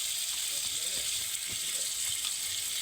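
Ridge gourd frying with ground spices in a pan, a continuous close hissing sizzle with a few soft stirring clicks throughout.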